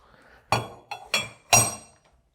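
Metal rotors from a Universal 1 pump wet end are set down inside the pump cover, making three or four sharp metallic clinks and knocks, close and distinct, in otherwise quiet surroundings.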